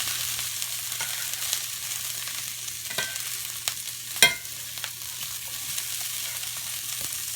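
Vegetables for beef and broccoli fry in a pan with a steady, close sizzle, broken by occasional stirring scrapes and one sharper clatter, with no talking.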